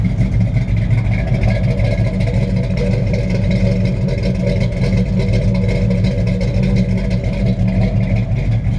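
A 1953 Ford F-100 pickup idles with a loud, steady exhaust rumble and deep low-end throb. It runs continuously and close up with light mechanical clatter on top, and no one speaks.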